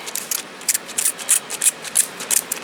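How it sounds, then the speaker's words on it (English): A spray bottle hisses water in a quick series of short bursts over gomphrena seedlings, about a dozen uneven squirts close by, with no talking. "I'm just going to take my spray bottle. I'm going to spray over the tops of these here."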